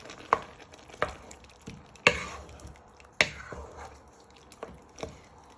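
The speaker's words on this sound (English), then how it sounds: "You just want to give that a little bit of a stir in." Chopped tomatoes being stirred into a smoked fish and chickpea stew: a spoon knocks and scrapes against the pot in a few sharp, spaced taps over a soft simmer, with no talking.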